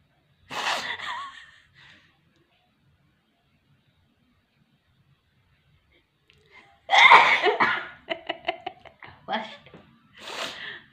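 Several loud sneezes burst out close to the microphone in a playful sneezing challenge, one at the start and a rapid cluster later, with breathy gasps and snorts between quiet gaps and voices around them.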